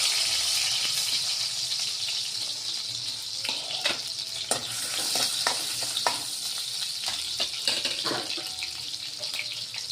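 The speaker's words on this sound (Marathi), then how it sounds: "आता या कढई तेल गरमच आहे, कांदा टाकत आहे यामध्ये" Sliced onion hits hot oil in a kadai while a spicy karela and potato bhaji is being cooked, giving a steady, close, loud sizzle and crackle with scattered sharper pops throughout.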